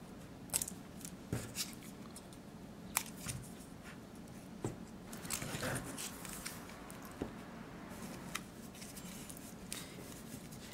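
A paper mat being cut to trim off small points, giving quiet, close, sharp snips at irregular intervals over soft background shuffling.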